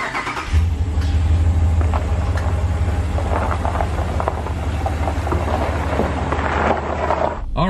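A 2019 Ram pickup with a Pedal Max throttle controller rumbles at a dead stop, its deep engine note holding steady and loud before rising and swelling in a sustained rev, then cutting off sharply near the end.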